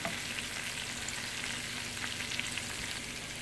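Tadka of spices and Kashmiri red chili frying in hot oil for daal, a dense, continuous close sizzle and crackle with small pops throughout and no talking.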